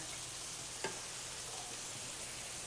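Sausage and peppers with oregano frying in a pan, a soft, steady sizzle with a single sharp clink of stirring, faint and even throughout.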